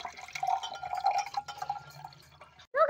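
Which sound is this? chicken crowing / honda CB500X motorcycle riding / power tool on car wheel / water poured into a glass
water poured into a glass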